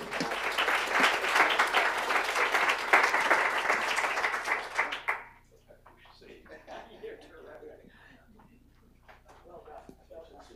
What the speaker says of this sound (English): one more time, a round of applause for the ambassador